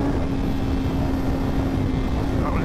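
A 2024 Honda Fireblade motorcycle being ridden at speed on a road while overtaking a motorhome, a loud steady engine drone with rushing wind, heard close and continuous from the rider's position.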